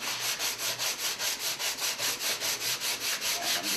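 A sanding block works over a wooden box, producing steady rhythmic back-and-forth rasping strokes, about four per second, close and clear with no talking.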